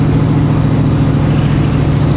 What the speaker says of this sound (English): We need to do a couple of Duke Boy jumps to see if the exhaust is all nice and tight